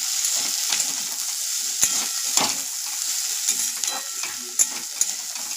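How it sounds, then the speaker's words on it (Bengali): Noodles and vegetables frying and being stirred in a pan for a home dinner, a steady close sizzle with scraping stir strokes and occasional utensil clicks, no talking. "তো আমার ভাজাটা হচ্ছে, দেখতে থাকো"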